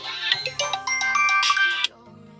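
A phone's melodic ringtone for an incoming call plays for about two seconds as a bright run of tones, then stops, leaving a low hum.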